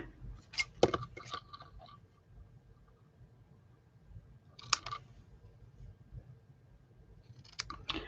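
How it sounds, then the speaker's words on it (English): Scissors snipping ribbon while making a card, three short bursts of crisp clicking cuts spaced a few seconds apart, close and quiet against a soft background. "let's cut some ribbon"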